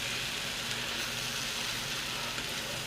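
Garlic and onions fry steadily in a pan for New York hot dog onion sauce, a constant soft hissing sizzle with no breaks.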